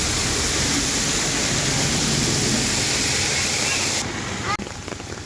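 Rain falling outdoors in a village while someone walks, a loud, steady hiss that cuts off abruptly partway through, followed by a dull thump.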